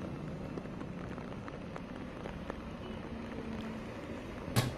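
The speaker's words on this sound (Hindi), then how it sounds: "यहाँ पे मुंबई में सुबह से ही बारिश हो रही है" Heavy morning rain falls in Mumbai as a steady wash of hiss and patter, even and unbroken, with a brief louder splash at the very end and no voices.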